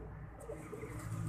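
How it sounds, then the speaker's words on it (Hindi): Soft, low cooing from an Indian pigeon, faint and somewhat distant against a quiet background hum. "इंडियन कबूतर"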